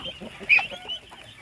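Farm chickens cluck briefly at feeding time, with a few soft clucks and one sharper call close by over light background noise.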